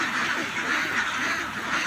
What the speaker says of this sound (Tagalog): Magpakain muna tayo ng ating mga alagang itik para hindi sila mapasmo.